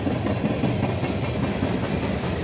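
CSX mixed manifest freight train heading east past Beaver Falls, Pennsylvania, its cars rumbling close by with a dense, continuous clatter of wheels on rails.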